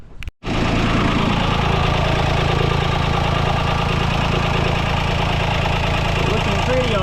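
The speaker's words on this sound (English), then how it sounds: "kind of use the engine like a generator" A sailboat's inboard engine run like a generator to charge the battery, starting after a brief click and then idling steadily and loudly at close range.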